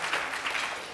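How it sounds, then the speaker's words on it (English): Audience applause at an annual dinner event, a soft, steady patter of many hands at moderate distance, brief and even without any voices over it. "Yes, applause."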